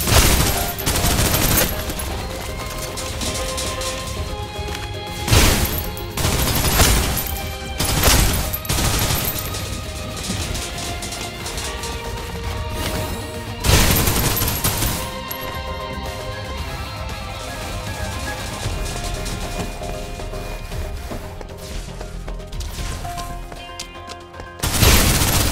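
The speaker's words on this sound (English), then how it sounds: "Suppressive fire." Gunfire in Snowbreak: Containment Zone lays down suppressive fire as repeated loud bursts and rapid volleys, close and punchy, interspersed with booms over game music.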